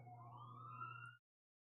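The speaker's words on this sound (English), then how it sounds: "Here comes fire truck number 4." A fire truck siren wails as it passes, a loud rising tone over a steady low engine drone that cuts off abruptly after about a second.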